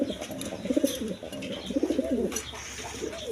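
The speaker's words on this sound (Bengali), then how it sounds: "লাহোরি কবুতর" A Lahori pigeon coos close by in soft, repeated rolling phrases, with a few faint background chirps.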